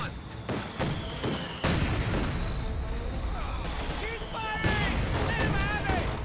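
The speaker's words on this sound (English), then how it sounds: "Oster mortars doing good work" Ostwind and mortar fire in a WWII strategy game, with repeated booming impacts and distant firing thuds in an ongoing battle, while a commentator talks over it and a few high whistling sounds pass through.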